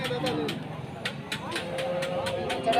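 Bull calves lowing at a busy village cattle market in Rustampur, Rajshahi, with several moos rising over crowd chatter and background noise.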